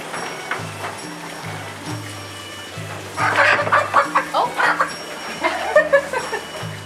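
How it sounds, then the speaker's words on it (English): Chicken perched on a table at a lakeside spot in Pokhara, Nepal, giving a run of short, close clucks with a busier burst of calls midway, over low background murmur. "a chicken jumped up on the table."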